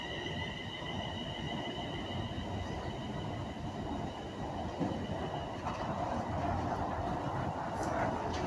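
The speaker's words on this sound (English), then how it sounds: "Arriving in next for West Midlands Railway bound for Birmingham International off Rugeley Trent Valley." A West Midlands Railway train bound for Birmingham International rolls into Marston Green station, a steady rumble of wheels on rail with faint high squeals, heard from the platform at moderate distance throughout.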